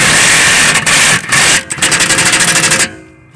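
A power gun drives self-tapping bolts into a Cub Cadet CC30E electric lawn mower during motor and blade replacement. It gives loud, harsh bursts of rattling impact with short gaps, then a run of rapid pulses that cuts off abruptly.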